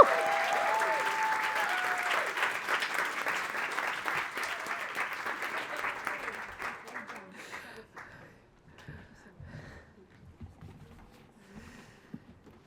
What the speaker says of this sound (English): Do we want a quick cheer from all our winners as well?